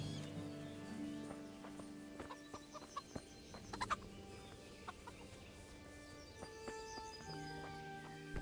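Chickens cluck and squawk inside a chicken coop in the Kingdom Come: Deliverance video game, with scattered short calls over a low, steady ambient hum, alongside a few sharp knocks and footstep-like clops.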